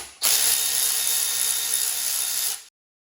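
A power ratchet spinning out 8mm bolts from a Mustang transmission valve body during a rebuild: one loud, steady whirring buzz lasting about two and a half seconds, then stopping abruptly, close up with no voices.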